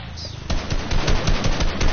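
Gunfire from a video game match sounds as a rapid string of loud, sharp shots. They come in quick regular succession after a brief quieter lead-in.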